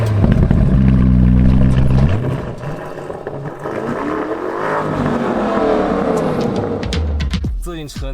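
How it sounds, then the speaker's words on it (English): Lamborghini Urus engine heard up close, a deep steady rumble that drops, then builds through rising revs before settling, with brief clicks near the end. "Just sit back and listen to what this engine sounds like."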